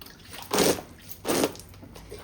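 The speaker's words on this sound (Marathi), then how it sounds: "आता इकून पण थोडंसं पाणी मारायचं ना" Water is splashed by hand onto freshly pressed rice-flour papads in a home kitchen, making two short, soft spattering bursts about a second apart, quiet and without talk.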